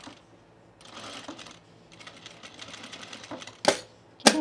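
Short bursts of rapid stitching from a sewing machine sewing a double gauze top, close and fairly quiet, with a couple of sharp clacks near the end.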